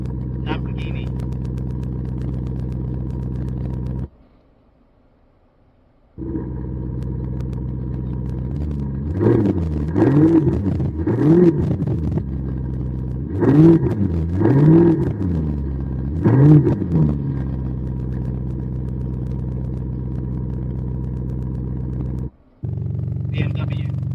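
A Tesla Model 3's exhaust speaker imitates a Lamborghini engine, a loud steady synthetic drone that swells through several revving surges, with a brief gap and people talking over it.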